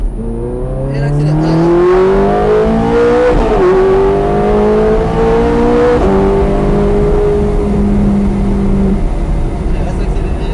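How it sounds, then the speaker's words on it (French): Ferrari F430 Scuderia accelerates hard on a race track, its engine note climbing loud and close through a gear change around three seconds in and then holding steady, with an instructor speaking over it. "Allez, on redresse. Et on accélère."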